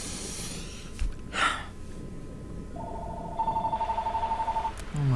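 A telephone rings with a rapid, warbling electronic trill that repeats steadily for over a second, preceded by a sharp gasp and breathing close by.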